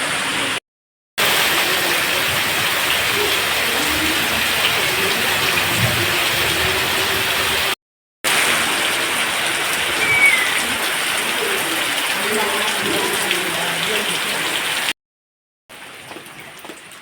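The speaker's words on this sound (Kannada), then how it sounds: "ಈಗ ನೋಡಿ ಅಂತ ಜೋರು ಮಳೆ" Heavy rain on a dark afternoon pours as a dense, even roar, interrupted by a few brief silent gaps, with no voices.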